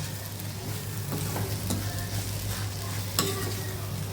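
Curry leaves sauté in a pan for chana curry, making a steady close sizzle with a few scraping stirs and clinks of a utensil, and no speech.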